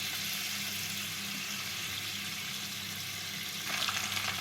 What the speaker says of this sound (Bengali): এই তেলের মধ্যে ফোড়নে দেবো 2টো শুকনো লঙ্কা, 2টো তেজপাতা আর অল্প সাদা জিরে।